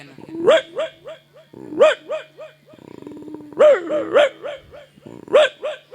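A mimicry artist voices a dog's reaction at a suspicious visitor's house, producing repeated sharp barks and yips in short rhythmic bursts, close and loud, with brief pauses between volleys.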